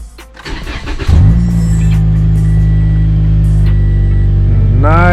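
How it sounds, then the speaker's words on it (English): A Toyota Corolla engine cranks and catches just after new spark plugs are fitted, then settles into a steady, smooth loud idle close by, with a brief rising whine near the end. "So let's start the car."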